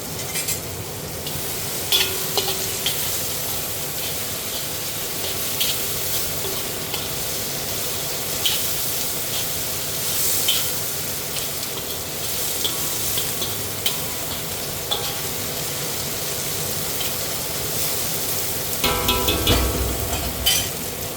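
Chinese noodles and cabbage sizzle steadily in a wok on a home stove, with scraping and stirring throughout and a louder clatter of the pan near the end.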